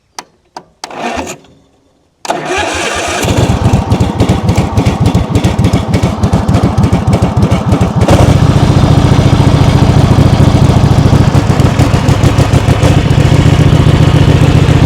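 A free Kawasaki V-twin lawn tractor mower engine cranks in a few short bursts, then catches and settles into a loud, steady, rough-edged running rumble close by, with no talking.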